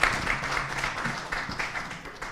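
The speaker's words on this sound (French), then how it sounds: "je crois qu'on peut les applaudir" Brief applause from an audience at a French conference session, a fairly loud, even patter of many hands clapping together for a couple of seconds.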